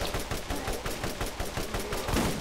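Rapid, evenly spaced rifle shots ring out in the shooter video game Borderlands, a close, loud string of about a dozen sharp cracks firing in quick succession.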